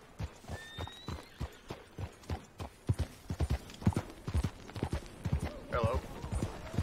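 Horse hooves clop in a steady trotting rhythm while riding in Red Dead Redemption 2, close and clear, with a brief whinny near the end and a voice speaking over parts of it.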